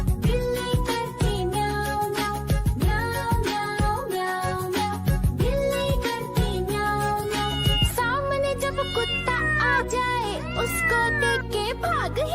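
A Hindi children's rhyme about a cat, where singing voices imitate a cat's meows in repeated rising and falling calls over bright music, with a run of quick sliding meow sounds near the end.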